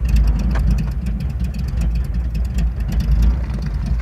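A Chevrolet C10 squarebody pickup with a four-speed sits idling, a steady, low, close-up engine rumble with an even pulsing rhythm and no talk over it.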